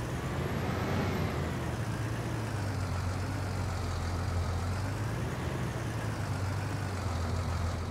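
Cattle truck in Farming Simulator 19 driving with a steady, loud engine drone and low rumble that holds throughout, with slight pitch swells as it moves and no talking.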